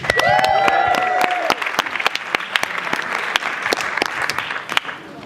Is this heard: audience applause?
yes